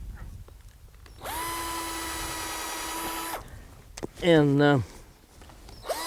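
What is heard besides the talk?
power drill drilling a hole in walnut tree wood for grafting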